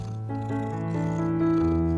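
Belle the cat purrs close up, a continuous low rumbling drone with soft tonal layers, steady and uninterrupted.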